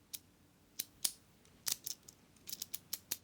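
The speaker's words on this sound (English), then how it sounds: "I love the sound of those pins clicking into their special positions" Small metal key pins clicking inside a lock as a key slides in, a quick irregular series of sharp, faint ticks close by with no talking.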